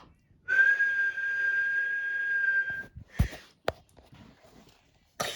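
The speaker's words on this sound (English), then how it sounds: "What's all that whistling?" A long, steady, clear whistled tone holds for about two and a half seconds, followed by a few sharp knocks and short bursts, all in a quiet setting.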